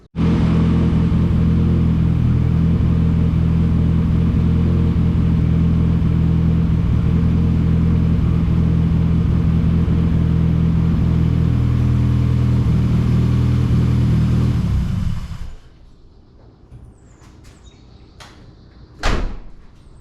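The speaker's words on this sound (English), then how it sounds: "the car starts" Nissan Pulsar GTI-R with a freshly rebuilt forged engine runs loud and close, a steady low rumble that cuts off after about fifteen seconds, followed by quiet and a couple of sharp knocks.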